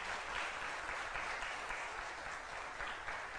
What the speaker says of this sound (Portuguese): Aplauda ao Senhor nesta noite em nome de Jesus.